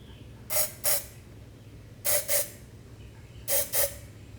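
Extra-hold hairspray squirted into a 2020 Harley-Davidson Low Rider S handlebar for a grip install, three pairs of short close hissing sprays spaced about a second and a half apart over a low background hum.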